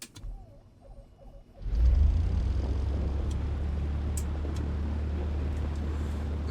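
A Piper Arrow III piston engine starting in a flight simulator: a brief starter whine, then the engine catches and settles into a loud, steady low rumble that continues to the end.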